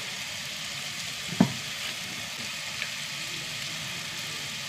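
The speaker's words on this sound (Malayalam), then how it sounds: "തക്കാളി നന്നായി വഴണ്ട് വന്നു കേട്ടോ." Tomatoes sautéing in a pan with spice powders such as turmeric being added for a sambar-style dish, giving a steady soft sizzle throughout, with one brief clatter near the start.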